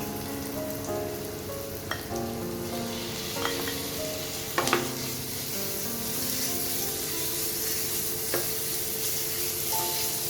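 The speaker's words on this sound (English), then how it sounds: "add in a little bit of the minced garlic and also the shallots. Saute it for about a minute or so until it's fragrant" Minced garlic and shallots sauté in hot oil for a pork gravy rice, with a steady close sizzle broken by a few sharp scrapes and clinks of a spatula against the pan.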